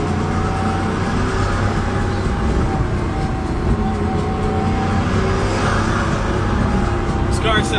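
A Pagani Huayra La Monza Lisa drives at a relaxed pace, its engine a steady loud drone heard from inside the cabin, with a person talking over it.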